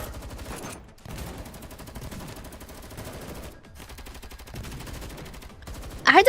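Rapid bursts of gunfire from the video game Girls' Frontline 2: Exilium rattle on fairly quietly, broken by short pauses, with a louder burst at the very end.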